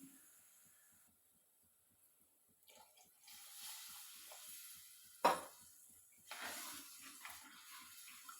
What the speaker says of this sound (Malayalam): എണ്ണയിട്ട് നല്ലപോലെ വഴറ്റിയതിന് ശേഷം അതിൻ്റെ പച്ചപ്പൊന്ന് മാറിയിട്ടാണ് അതിനകത്തേക്ക് വെള്ളം ഒഴിച്ചെടുക്കുന്നത്